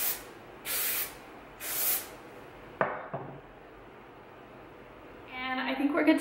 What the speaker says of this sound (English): I just want to finish off with a little bit of hairspray.